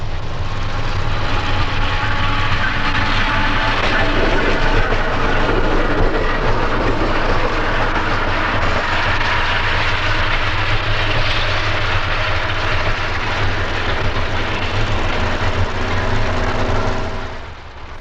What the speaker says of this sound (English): A westbound passenger train heads through Burnham Yard